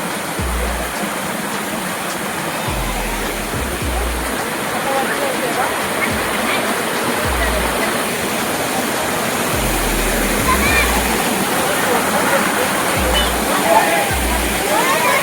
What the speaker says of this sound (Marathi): मस्त झरणा आहे बघा